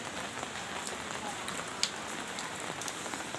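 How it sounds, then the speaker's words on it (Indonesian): Rain falls steadily on a surface in a dense, even hiss close by, with scattered drop ticks and one sharper splash, and no talk. "Hujan kieu."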